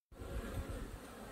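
Honeybees fly around their hives in warm weather before winter, producing a steady, close buzzing hum that starts abruptly and continues without talk.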